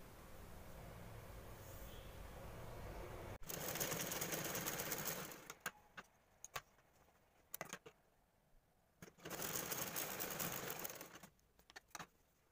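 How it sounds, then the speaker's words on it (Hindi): A sewing machine stitches a zipper onto a ladies' handbag, running in two sustained bursts separated by short clicks and pauses, close and clear with no talk. "अब हम यहाँ पे चैन लगाएंगे, तो इसको उल्टी रखेंगे, ये देखिए, और एक सिलाई यहाँ पे लगा देते हैं।"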